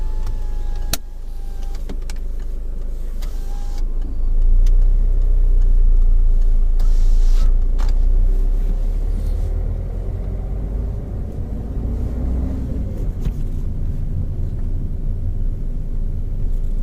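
A car pulls away from a standstill during a mock driving licence exam, its engine rumbling low and steady, rising slightly as it gets moving, then settling into a continuous close cabin drone with no voices.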